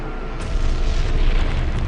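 Bombs exploding during an air raid on Berlin, a deep rumbling boom that swells and rolls on for about two seconds.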